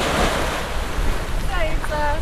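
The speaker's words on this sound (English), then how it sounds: "That's a pretty nice beach." Ocean waves washing onto a beach seen from a sailboat, a steady broadband rush with wind buffeting the microphone, and a voice briefly speaking near the end.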